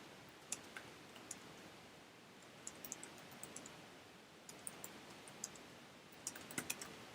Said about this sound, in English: Typing it down.